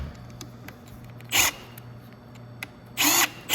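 Two short bursts of a power drill pre-drilling wood for a bench leg assembly, each about a second or less, separated by quiet with faint background hum and small clicks.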